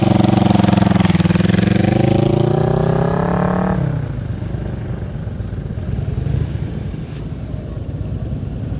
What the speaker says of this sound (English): this is Rob on the road glide. Downshift